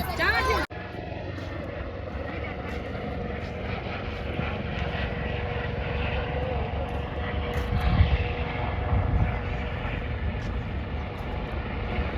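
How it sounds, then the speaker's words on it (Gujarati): A helicopter lands beside a temple during a festival crowd with heavy traffic around. A steady, loud rotor and engine drone persists throughout, with people talking over it. "પતા નીચે હેલિકોપ્ટર ઉતર્યું છે મંદિરની બાજુમાં"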